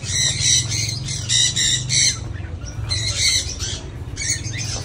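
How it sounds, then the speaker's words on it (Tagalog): Cockatiels in an aviary give repeated harsh, shrill squawks in bursts, several birds calling over one another at close range against a low background hum. "Yan, mga kakatil."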